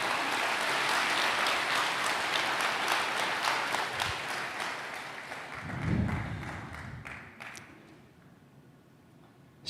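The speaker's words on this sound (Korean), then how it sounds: "다시 한번 큰 박수 부탁드리겠습니다" An audience at a Korean missionary's greeting applauds, a dense wash of clapping that stays strong for several seconds and then thins out and fades toward the end, with no talking over it.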